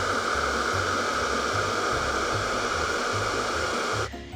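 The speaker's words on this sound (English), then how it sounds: "use your hand to direct the airflow by cupping it between the port and the hairdryer" A hair dryer blows a steady, loud broadband rush of air into the valve of a three-ring inflatable vinyl pool, with a low hum underneath, running continuously before cutting off sharply near the end.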